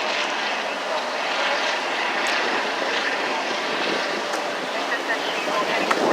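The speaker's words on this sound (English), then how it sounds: "Plenty of helicopters in the sky." Several helicopters fly overhead during a street protest march in Boston, making a continuous, fairly loud rotor and engine drone that holds steady throughout.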